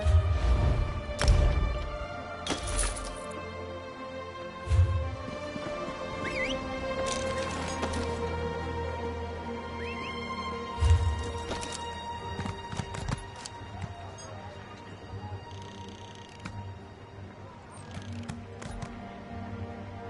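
Horse hooves clop in Elder Scrolls Online in scattered, uneven bursts, with a few sharper hits and faint whinny-like calls over a steady game ambience drone.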